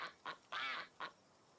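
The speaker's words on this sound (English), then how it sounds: "I love that when I show up, I automatically hear that duck quack." Four bright, nasal duck quacks from the Palia video game ring out close and clear, three short calls around one longer drawn-out quack, with no talking.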